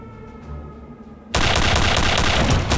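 Heavy sustained gunfire from the video game Return to Castle Wolfenstein erupts suddenly after a quieter stretch, continuing as loud, dense automatic shooting to the end.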